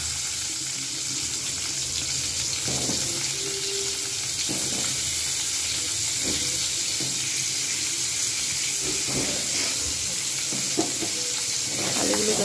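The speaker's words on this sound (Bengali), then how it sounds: "এই তেলের মধ্যে আমি কিন্তু দিয়ে দেবো আলুগুলো। আলুগুলো ভালোভাবে ভেজে নেব।" Potatoes frying in hot oil in a pan, a close, steady hiss and sizzle with occasional crackles and faint stirring scrapes, continuous throughout without talking.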